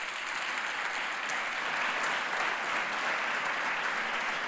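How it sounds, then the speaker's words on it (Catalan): Steady, dense applause from an audience at an evening awards ceremony in Girona, greeting the city's mayor, sustained and even throughout with no pauses. "rebem amb un fort aplaudiment a l'alcaldessa de Girona, la senyora Marta Madrena"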